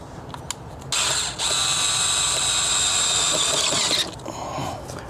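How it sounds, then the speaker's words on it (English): A power tool or ratchet tightens a clamp around the throttle body of a Lexus engine, a steady close whirring buzz lasting about three seconds, with quiet workshop hiss before and after. "Now we're gonna tighten the clamp around the throttle body."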